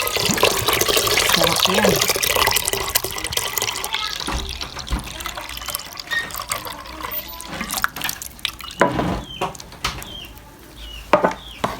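Coconut milk is poured into a container for maja blanca, a loud continuous liquid pour that thins into splashes and drips. A brief spoken remark comes near the end.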